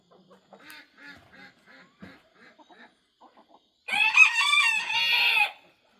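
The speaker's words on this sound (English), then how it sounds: "we're going to let the chickens out" Scattered soft clucks and murmurs from several chickens, then a loud rooster crow bursts out close by before fading.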